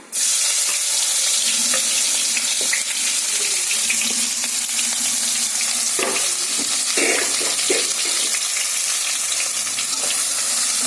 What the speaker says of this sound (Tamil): ஆனியனை நல்லா ஃப்ரை பண்றேன்